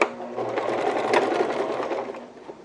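A sewing machine stitches a shirt collar seam about one centimetre from the edge, giving a short, close run of rapid needle chatter that fades toward the end.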